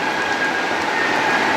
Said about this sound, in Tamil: இப்போ மலேசியாவில் ஃபஸ்ட்டு டைம் மழை பெய்யுது